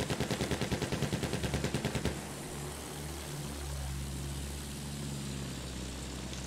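Rapid machine-gun bursts in Battlefield 1 give way after two seconds to the steady low drone of a propeller bomber aircraft, with the engine pitch sweeping as it passes overhead.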